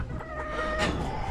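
Roosters clucking and crowing at close range, a continuous run of fowl calls with a rising crow through the middle, no voices.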